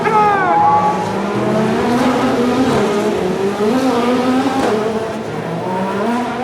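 IndyCar race cars firing up and revving at the Grand Prix of Long Beach street race, a dense roar of many engines with rising and falling whines layered together, loud and close.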